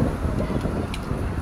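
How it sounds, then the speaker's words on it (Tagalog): Outdoors on a walk, wind buffets the microphone with a steady low rumbling roar that persists the whole time with no pauses. "Mahangin ngayon, oh."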